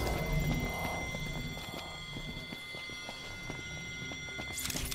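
Horse hooves clip-clopping in the video game Final Fantasy XV, a steady run of hoofbeats at moderate distance over a busy game ambience, with a brief whinny-like tone and no talk.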